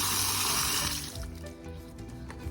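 Water rushing loudly after a house water supply is turned back on, a strong hiss for about a second that then drops to a quieter trickle with faint knocks.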